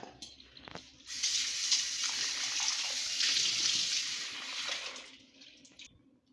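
Tamarind is rinsed by hand in a bowl of water for a South Indian kara kuzhambu, giving a close, steady splashing and swishing for several seconds that then trails off into drips, with no talking.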